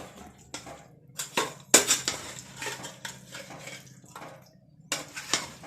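A metal spoon stirring ground masala into fried chicken in a pot for biryani, with irregular scraping and clinking strokes, some louder knocks, close-up and alone.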